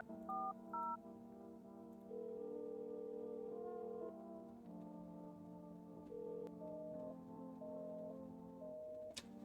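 Telephone dialing in a video game: a short run of touch-tone key beeps, then a long string of steady electronic ring tones and tonal blips, fairly quiet and without speech.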